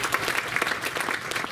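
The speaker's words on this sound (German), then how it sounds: "Ein Applaus für den Herrn." Audience at a hypnosis and NLP congress applauding a man, brisk dense clapping from many hands, steady and fairly close for the whole moment.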